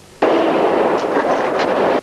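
A woman fires a gun in a film scene: a sudden loud blast that cuts in sharply and rolls on as a sustained roar for nearly two seconds, with no talking.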